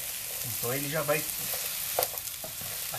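Sliced okra fries in hot fat in a pan with a dense, close crackling sizzle throughout. A voice speaks briefly over the frying.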